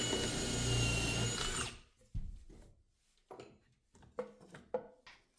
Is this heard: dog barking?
no